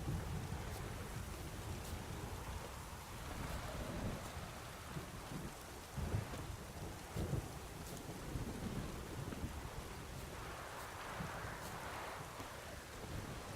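Steady rain and rolling thunder in The Witcher video game, a continuous rainy wash with low rumbles surging throughout, fairly faint and with no voices.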